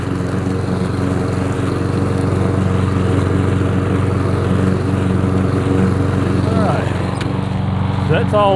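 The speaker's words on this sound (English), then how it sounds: "I do three passes with this 22-inch mower." A 22-inch walk-behind lawn mower cuts grass at a subdivision entrance, its engine droning loud and steady throughout, with traffic noise in the background.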